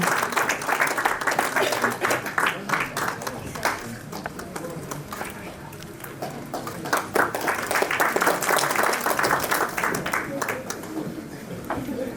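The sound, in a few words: applause from an award ceremony audience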